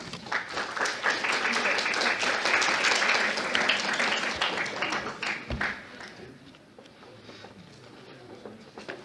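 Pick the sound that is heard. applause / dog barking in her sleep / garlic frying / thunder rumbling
applause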